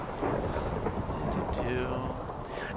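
Steady rain pours throughout a video game world, with deep thunder rumbling beneath it, a continuous loud wash of storm sound.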